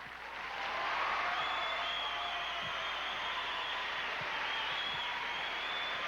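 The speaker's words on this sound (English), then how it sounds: "A lot of whistling. I have a feeling in Texas, whistling counts as applause." A pageant audience applauds steadily for several seconds, a dense wash of clapping with sustained whistles riding over it and scattered cheers, loud and continuous throughout with no talk.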